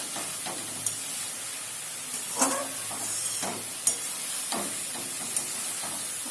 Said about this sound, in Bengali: আর একটু ভালো করে হাই ফ্লেমে আমি গাজরটাকে ভেজে নেব